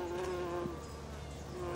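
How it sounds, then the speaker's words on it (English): Bees buzz steadily and close around blooming borage plants in a garden, a continuous droning hum with a slight rise and fall as they move between flowers. "growing borage provides food for bees"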